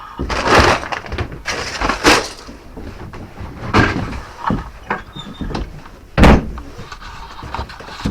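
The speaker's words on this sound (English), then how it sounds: "I always make sure that I close that door so they don't escape." A rabbit enclosure door on a homestead is handled during morning chores, giving several clattering knocks and a sharp closing bang near the end, with rustling between them.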